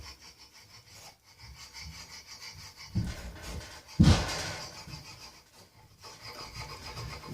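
A Sharpie marker scraping along a straight edge on an old Delta table saw during a Vega fence install, heard as a few scratchy rubbing strokes, the strongest near the middle, fairly close with quiet pauses between.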